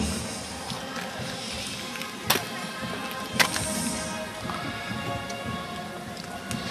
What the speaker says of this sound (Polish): zobaczcie jak ten koń teraz się prezentuje, pięknie wyrzucając nogi do przodu